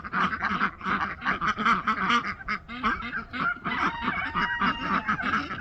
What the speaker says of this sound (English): all the animals get pretty loud in the afternoon. I hear you, ducks